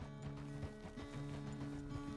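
A horse being ridden at a walk, its hooves clip-clopping in a steady, fairly quiet rhythm over a constant low hum.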